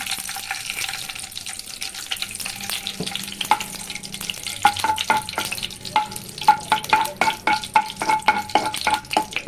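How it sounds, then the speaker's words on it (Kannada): Hot ghee crackles and sizzles in a pan, with a series of sharp scraping and stirring strokes growing louder toward the end, no voices. "ತುಪ್ಪ ಬಿಸಿ ಆಗ್ತಾ ಇದೆ."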